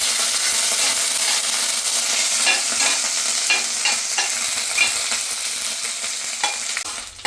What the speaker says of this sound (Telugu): లైట్గా ఆయిల్లో మనం ఫ్రై చేసుకున్నాం